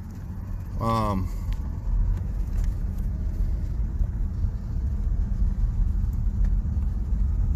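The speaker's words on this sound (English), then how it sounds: "So let me get on the highway here. All right, so we're driving now." A 1999 Ford Ranger with a suspected fuel delivery fault pulls along in gear, its low engine rumble steady and close throughout, with a short burst of voice near the start.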